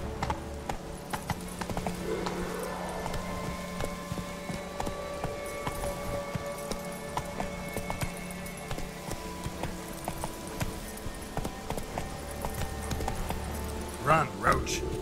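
Roach, Geralt's horse in The Witcher 3: Wild Hunt, gallops with steady rhythmic hoofbeats beneath battle noise and a constant game soundscape, with a brief louder clatter near the end.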